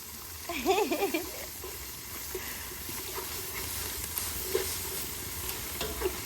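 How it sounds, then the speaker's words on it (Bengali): Masala spice paste of ginger, garam masala and cumin frying and being stirred in a pan, a brief louder spatter of sizzling early on, then a steady low hiss with occasional scrapes of the spoon. "মশলাটা রে খুব ভালোভাবে ভেজে নিব যাতে কাঁচা গন্ধ না হে"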